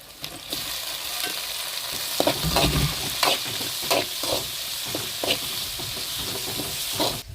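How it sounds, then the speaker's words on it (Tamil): Tomatoes hit a hot frying pan of oil with curry leaves for a squid curry, giving a steady close sizzle with stirring scrapes and clinks over it, and no talking. "அடுத்து வந்து நம்ம தக்காளி போட்டுக்கிறோம்."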